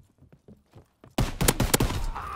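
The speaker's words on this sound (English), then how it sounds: "There's some gunfire." Gunfire in Call of Duty WW2, starting with faint scattered shots, then erupting into a loud, dense fusillade of rapid shots that continues to the end.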